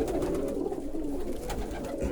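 Viennese pigeons coo softly and continuously nearby in a loft, a low, throaty burbling with no talking.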